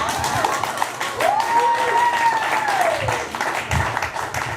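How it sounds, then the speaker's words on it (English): An audience at an Everett poetry night gives a round of applause, steady moderate clapping with some voices over it, heard from within the room. "Another round of applause for Emma and those difficult words."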